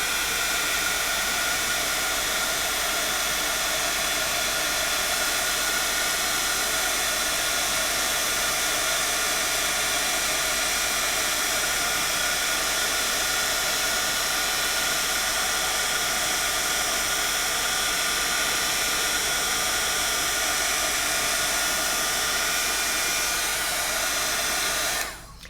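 A heat tool blows steadily to melt embossing powder into a glaze over stenciled layers, a loud, continuous hot-air whoosh with a fan hum. It holds nearly unchanged for the whole stretch and cuts off abruptly at the very end.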